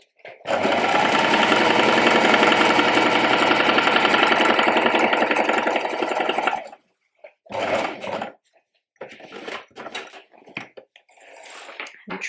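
A sewing machine sews a gathering line on a shirred-back dress, running steadily and loudly up close for about six seconds, then stopping and giving a few short, brief bursts before falling quiet.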